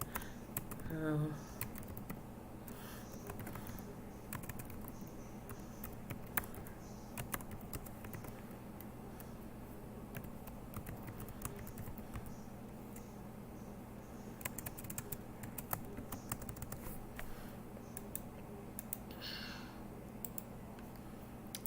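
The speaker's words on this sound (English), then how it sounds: "I'm trying to think at the same time as typing." Computer keyboard typing runs through the whole stretch as light, irregular clicks at moderate level, with faint background noise and occasional louder taps, no clear speech over it.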